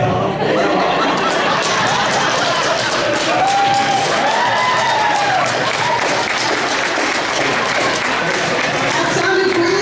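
A party crowd at a grandmother's 100th birthday applauds her song with steady, loud clapping that continues throughout, with chatter and cheering mixed in.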